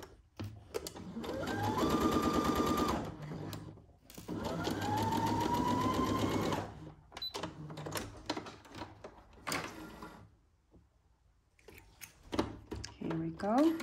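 A domestic sewing machine stitches a Simplicity 1802 Cynthia Rowley pattern in two long whirring runs, then stops; someone talks quietly in the pauses between and after.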